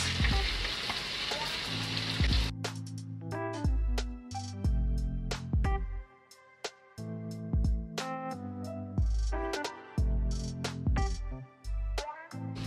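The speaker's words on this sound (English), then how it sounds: "So let's throw in the veggies." Vegetables for chicken fried rice stir-fry in a hot pan, opening with a loud burst of sizzle, then settling into a steady fry broken by repeated sharp clinks and scrapes of a utensil against the pan.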